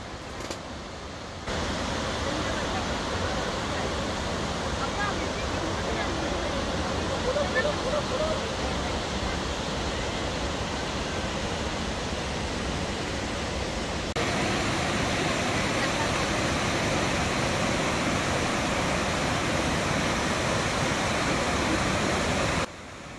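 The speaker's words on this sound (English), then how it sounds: "the waterfalls are very spectacular when they are in the full flow" Steady, dense roar of heavy rushing water, loud and continuous throughout, from the Shivanasamudra waterfalls in full monsoon flow nearby.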